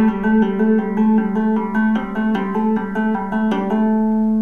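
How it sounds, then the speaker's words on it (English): A rapid guitar trill of hammer-ons and pull-offs, notes alternating quickly and evenly between two pitches, played clean and close with no talking. "and you hammer on, pull off and hammer on,"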